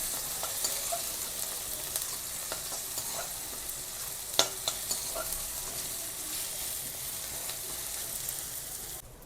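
Ridge gourd sizzles and crackles steadily as it stir-fries in a hot pan, with occasional scraping stirs and a sharp clink partway through.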